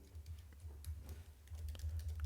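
Soft, quick keystrokes tapped on a computer keyboard in short irregular bursts, faint over a steady low hum from the room, with no voices.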